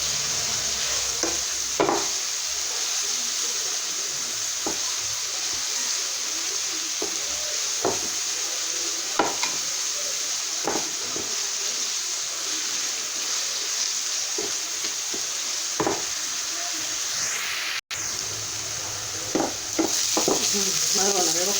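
Chopped onions fry in a little oil in a pan, a steady close sizzle broken by regular scrapes and knocks of a spoon stirring them, with a brief sharp clack near the end.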